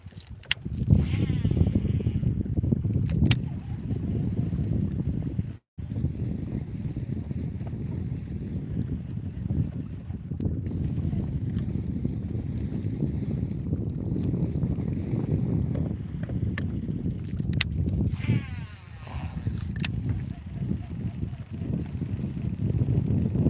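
Wind gusts blow over flooded water on an overcast morning while fishing from a boat, a broad rumbling buffet on the microphone that rises and falls for a long stretch, briefly cutting out once.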